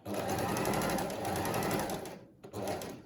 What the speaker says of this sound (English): All right, so now we're going to top stitch.